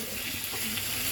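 Dried fish (shutki) frying gently in oil in a pan, a steady soft sizzle with a constant hiss throughout, close and fairly quiet, with no talking.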